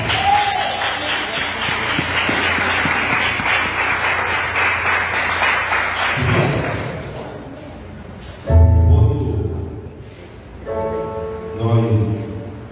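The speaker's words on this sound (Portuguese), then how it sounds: "Assentai-vos, aplaudindo e glorificando." A church congregation claps together for about six seconds, a dense, moderately loud burst of applause, followed by a pause and then a few voices calling out.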